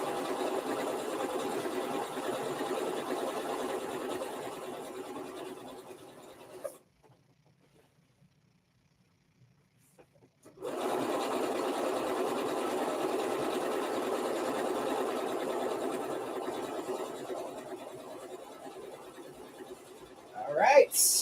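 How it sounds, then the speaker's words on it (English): A sewing machine stitches a dress in two long continuous runs, a steady close whirring that stops for a few seconds of near silence, then resumes and ends with a brief louder clatter. "I'm sewing right now."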